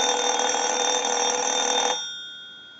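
A telephone bell rings loudly and continuously for about two seconds, driven by a ring cycle from a line analyzer during a telephone repair, then stops abruptly and leaves a fading ring-out.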